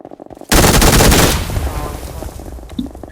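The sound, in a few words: gunfire from a video game shootout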